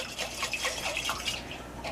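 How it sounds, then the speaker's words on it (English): A little water runs into a glass jar of leftover marinara sauce to rinse it out, a soft continuous trickle with faint dripping and splashing, close and quiet. "I'm just going to add just a little bit of water"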